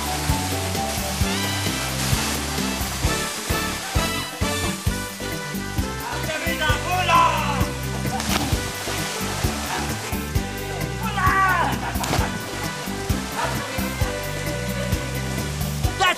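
Rushing water from a waterfall along a Fiji hiking trail gives a continuous, loud broadband hiss, with music-like tones layered over it.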